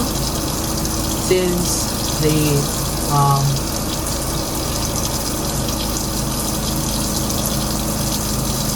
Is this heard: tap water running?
yes